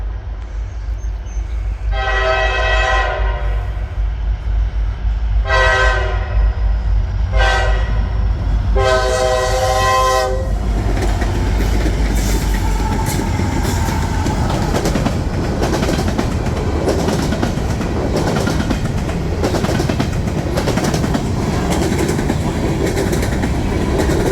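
A CSX freight train rumbles loudly past close by, sounding several long horn blasts before the steady roar and clatter of wheels on rails takes over.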